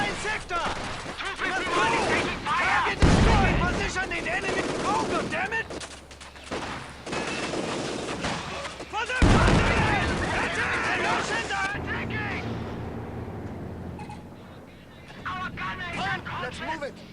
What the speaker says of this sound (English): My German ally up there mounts his machine gun. Helps me cut them in a crossfire.